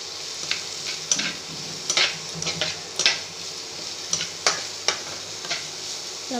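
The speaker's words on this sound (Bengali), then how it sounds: "লবণটা দিয়ে পেঁয়াজটা ভাজা ভাজা হতে দেবো" Onions frying with salt in a pan for aloo chokha, a soft sizzle under repeated sharp scrapes and clinks of a spoon stirring against the metal, close and steady with no talking.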